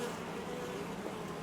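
Honeybees buzz actively around a South Carolina hive in February, a dense, steady hum of many insects close by with no talk.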